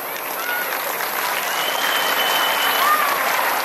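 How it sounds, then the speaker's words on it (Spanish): At a patronal festival in Temascaltepec, a crowd claps steadily for a street performer, an even, continuous patter of many hands with a faint whistle-like tone drifting over it. "regálame el aplauso"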